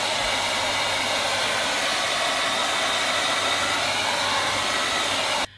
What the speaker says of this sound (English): I'm really loving the ability that I can actually take my proper hairdryer, not one of them little poop ones, and actually dry my hair